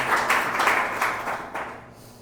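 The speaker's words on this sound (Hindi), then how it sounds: "आप सभी के लिए जोरदार ताली।" A church congregation at a Sunday evening worship service claps together in a moderate, rhythmic patter of many hands, fairly close, gradually thinning and fading out over the last second.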